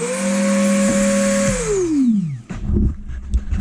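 A Dremel rotary tool whines steadily at a high pitch, then spins down as it is switched off. Clunks and handling noises follow close by.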